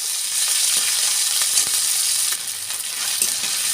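Ginger and green chili paste sizzles and fries in hot oil, a steady close crackle with faint stirring clicks throughout, alone without talk.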